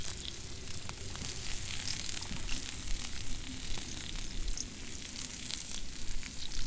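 Pork cooking in the survival video game DayZ gives a steady, close crackling sizzle with dense, even texture that runs unbroken throughout.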